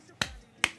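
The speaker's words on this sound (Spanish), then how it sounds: "Aplaudimos a Aubameyang." Two sharp, close hand claps or snaps from a single person, separated by under half a second, with near silence around them.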